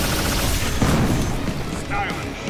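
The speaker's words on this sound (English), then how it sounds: "Proton Cannon!" Proton Cannon super attack in the Marvel vs Capcom Infinite fighting game: a heavy blast booms and rumbles amid dense game effects, with energetic announcer voices over it.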